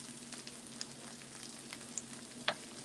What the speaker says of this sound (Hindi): अब हम इसको भून रहे हैं